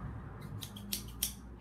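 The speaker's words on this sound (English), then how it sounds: "Big scissors." Large scissors make a few quiet, crisp snips, three or four short metallic cuts spaced unevenly over a low background hum.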